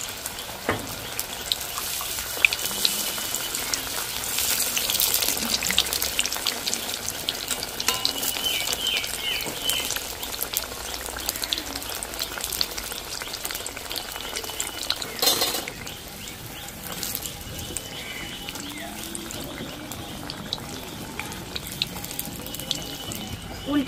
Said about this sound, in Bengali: উল্টে পাল্টে একদম লাল লাল করে ভেজে নিয়েছি